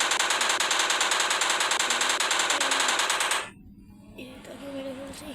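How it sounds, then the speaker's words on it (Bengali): A video-game machine gun fires one rapid, loud, unbroken burst for about three seconds, then cuts off into quieter game sounds. "আমি নিয়ে এসেছি একটি মেশিন গান।"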